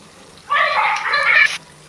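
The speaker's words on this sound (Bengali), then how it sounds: "একটু ভেজে নেবার পর দিয়ে দিলাম জল দিয়ে ফুটতে দেবো কিছুক্ষণ।" Water poured into a wok of lightly fried cauliflower, a steady rushing splash lasting about a second, close and fairly loud, with no talk over it.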